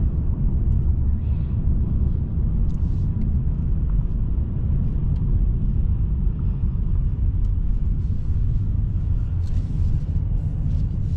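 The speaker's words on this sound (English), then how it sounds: "even though it's a 2-liter inline 4, it does get on the freeway pretty quickly" A 2023 Mercedes-Benz E 350 4MATIC sedan with a 2-liter inline-4 accelerates onto the freeway, a steady low engine and road rumble heard from inside the cabin without talk.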